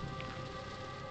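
Steady rainfall in a dark alley in the horror dating game Sucker for Love: a Date to Die for, a dense, even hiss of drops on surfaces, constant and close, with no talking.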